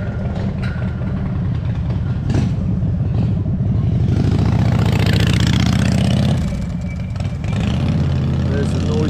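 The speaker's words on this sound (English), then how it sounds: "There's a noisy motorbike." A noisy motorbike engine rumbling nearby on a mountain town street, loud and continuous with a throaty low revving that swells midway, heard over another running engine while people talk.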